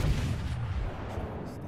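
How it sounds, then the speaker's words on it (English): The Warspite battleship fires a full broadside in World of Warships, a loud deep booming roar of heavy guns that rumbles continuously through the short moment. "let's do a full broadside on this guy."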